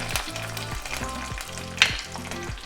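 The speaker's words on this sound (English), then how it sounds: "So just a clutch of them and it's going to splutter." Curry leaves and minced chilies spluttering in hot oil, a steady close sizzle with repeated crackling pops and one sharper spit, no voices.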